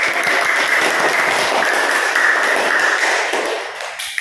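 A classroom of students claps for a group's math presentation, producing brisk, dense applause close by that carries on steadily before thinning out at the finish.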